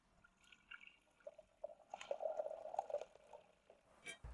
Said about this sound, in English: We pour all the brine into some container.